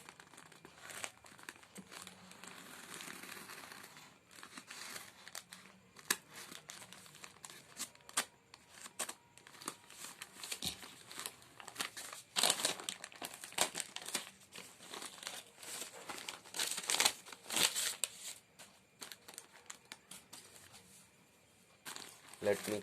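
A delivery package is sliced open with a kitchen knife, giving a long run of crinkling, tearing plastic and rustling handling noises at close range, with a voice talking over parts of it.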